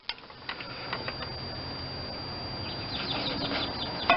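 Ratcheting wrench with a second wrench added for leverage, working the alternator belt tensioner on a 1993 Chevy S10 with a GM 4.3L engine, giving a series of faint mechanical clicks and ticks against a steady background hum.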